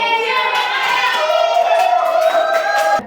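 A school class stands and performs a 'tepuk jadi fokus' clapping routine before a group presentation. Young voices chant in unison with rhythmic hand claps mixed in, close and lively, stopping abruptly at the end.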